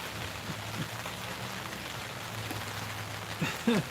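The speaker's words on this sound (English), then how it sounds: "Sorry about the noise, raining a little bit tonight." Steady rain patter hisses across the whole stretch, with a low hum underneath and a couple of brief louder knocks near the end.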